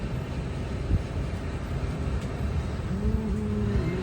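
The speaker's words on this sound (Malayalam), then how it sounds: "ട്രെയിൻ ഇപ്പോൾ വളരെ സ്ലോ ആയിട്ടാണ് പോകുന്നത്." A sleeper-class express train rolls slowly along the tracks with a low, steady rumble heard from inside a carriage. A faint squeal of wheels on rail rises near the end, and no one speaks.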